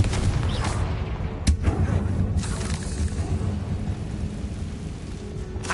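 Confringo, a blasting spell in Hogwarts Legacy: a sharp blast cracks about a third of the way through, set against a constant rumbling, rain-like background roar, with no talking.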